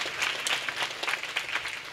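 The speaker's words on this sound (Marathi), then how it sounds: "त्याकरता या तीनही भगिनी करता एकदा जोरदार टाळ्या वाजून त्यांचा सत्कार करायचा" An audience at a Marathi memorial kirtan gathering breaks into applause for three women being honoured, a dense, fairly soft patter of many hands clapping steadily with no talk over it.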